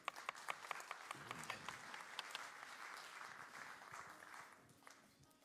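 Audience applause at a cooking lesson, a steady wash of clapping hands from a room full of people, with sharper individual claps standing out early and the sound tapering off near the end.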